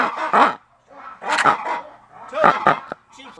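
Loud barking-like calls from ruffed lemurs in the Madagascar rainforest, three raucous bursts in a row, close and strong with short pauses between them.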